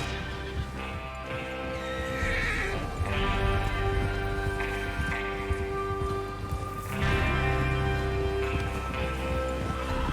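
Horses whinny over steady hoofbeats and a busy mix of game sound and music in Red Dead Redemption 2, the sound swelling a couple of times.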